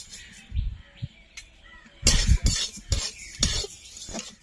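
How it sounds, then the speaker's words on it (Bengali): Moong dal, about 100 grams, fried and stirred in a pan with a spatula, giving intermittent scraping and clinking strokes in uneven bursts, fairly close, with birds chirping faintly in the background. "ডালটা ভালো করে ভাজতে হবে যতক্ষণ না এর গন্ধ ছাড়ছে।"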